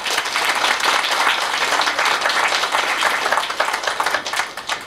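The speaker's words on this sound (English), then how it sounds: "Let's give him a round of applause," A theater audience claps steadily throughout a stage psychic demonstration, a dense, continuous round of applause with no talking over it.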